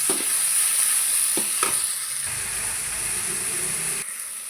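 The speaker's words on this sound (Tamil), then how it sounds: "வெங்காயம் நல்லா வதங்கிடுச்சு. இப்போ தக்காளி போட்டுக்கலாம்." Sautéed onions with tomato added in a pan for a spicy okra curry, a loud steady frying hiss broken by a couple of spatula scrapes, softening slightly toward the end.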